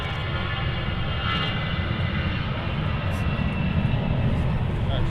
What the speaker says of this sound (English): There's a regular A320 there just departing